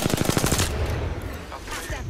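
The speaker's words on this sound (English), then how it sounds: "I'm spotted. Taking fire." Gunfire in the video game Apex Legends: a rapid, loud burst of automatic shots, then a brief lull and a few more scattered shots toward the end.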